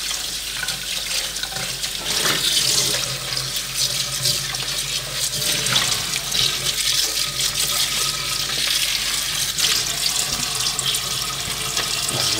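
A kitchen tap runs steadily while stinging nettles are rinsed under it, a close, continuous splashing and hissing of water that never lets up.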